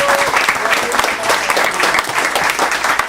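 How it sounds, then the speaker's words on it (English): Audience applause after a Q&A, steady dense clapping from a crowd throughout, moderately loud and close, with faint voices mixed in. "it would only be in a round of applause for you and your efforts"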